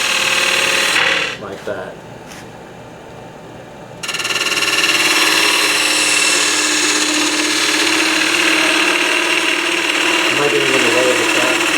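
Woodturning lathe hums as a bevel-rubbing gouge cuts a faceplate-mounted wooden box, a brief lull before the cut resumes as a steady, loud scraping whir; voices talk over it.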